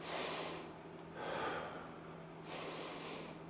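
Heavy breathing during a rest break after a cardio workout, with loud hissing exhales and sharp snort-like inhales repeating in a few close, rhythmic bursts and no talking.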